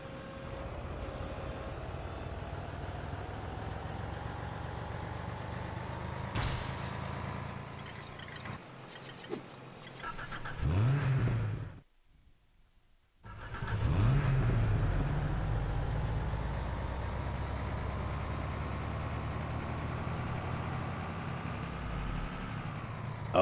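A truck engine in the Lego City Undercover video game drones steadily and shifts in pitch as the vehicle drives, briefly cutting out midway before resuming loud and continuous.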